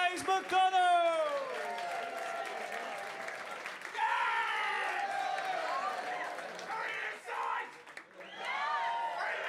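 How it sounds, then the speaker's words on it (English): Audience at the Komedia comedy club cheers and whoops for comedian James McDonnell, a loud sustained crowd roar with high excited yells and clapping that swells and dips over several seconds. "Let's start a round of applause. Spread that around the room. Start whooping for James McDonnell."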